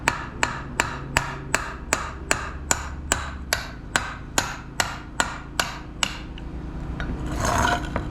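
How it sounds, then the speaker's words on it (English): A small metal punch taps a part loose on a gold Toyota Tacoma, giving a steady series of about fourteen sharp metallic strikes at an even pace, close and clear over faint workshop noise. "I just used this little punch right here and I just tapped it."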